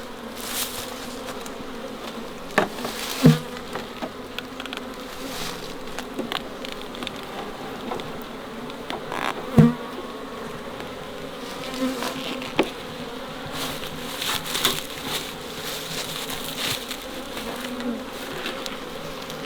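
Honey bees buzzing around a swarm trap outdoors: a continuous, steady insect drone with individual bees passing close by, occasional sharp knocks and bumps over the hum.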